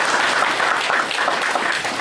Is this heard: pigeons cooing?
no